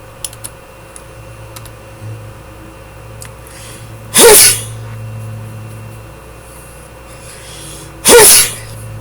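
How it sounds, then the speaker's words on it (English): Two loud sneezes about four seconds apart, close to the microphone, with faint keyboard typing and a low fan hum between them. "I'm not sure why I'm sneezing so much."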